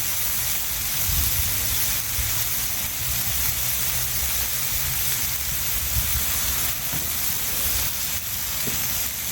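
Smash burgers and bacon sizzling on a 28-inch Blackstone griddle: a steady, dense hiss and crackle of frying fat running unbroken and close, with low rumbling underneath.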